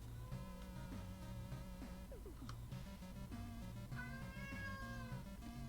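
A house cat named Cammy meows several times in short, close, clear calls over steady game music with chiming tones.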